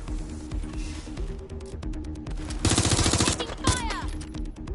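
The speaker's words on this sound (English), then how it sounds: "Shots fired!" Gunfire in the London-set action game Watch Dogs Legion, a rapid fusillade of close automatic shots in loud bursts, with shouting voices around it.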